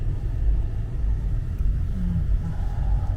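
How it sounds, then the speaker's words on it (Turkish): Busy city street traffic in Keçiören, a continuous low engine rumble of passing cars with no voices. "Her zaman olduğu gibi Keçiören'in trafiği."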